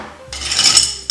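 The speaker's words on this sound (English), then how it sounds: "We're gonna fill it up with ice." Ice poured into a glass for a bourbon or gin cocktail, a burst of clattering and clinking cubes lasting under a second, close and fairly loud, with a last sharp clink at the end and no talking.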